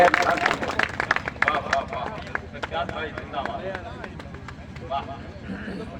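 An audience at a patriotic poetry recital breaks into applause, a loud patter of clapping at first that gradually fades, with speech and crowd murmur running through it.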